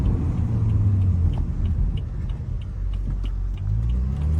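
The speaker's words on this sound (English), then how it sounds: "Even the pops are better on this road." BMW F30 335i Stage 2+ exhaust on a road drive: a steady loud engine rumble close up, with faint, scattered crackling ticks and pops over it and no talk.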